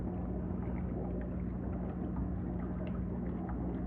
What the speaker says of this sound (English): this pump up here has a dial on it